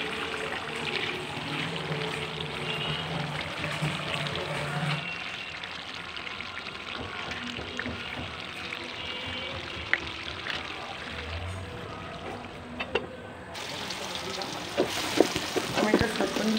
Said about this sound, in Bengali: দিয়ে দিলাম ঘিয়ের ফ্লেভারের জন্য ঘিটা দিয়ে দিলাম।